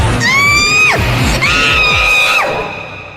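A woman screams loudly in a horror story setting, two long rising-and-falling shrieks, close and strong, with a short gap between them.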